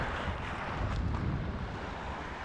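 Wind blows across open Lake Keta on the Putorana plateau while a boat is paddled, a steady, loud, close roar buffeting the microphone with no voices.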